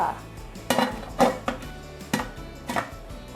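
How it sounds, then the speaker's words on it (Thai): Metal lid of a steamer pot holding fish and mixed vegetables set in place, a series of sharp clanks and clinks spaced about half a second apart, close and fairly loud. "เราปิดซึ้งนึ่งต่ออีกประมาณ 5 นาทีเลยค่ะ ให้ผักสุก ปิดฝาเลยค่ะ"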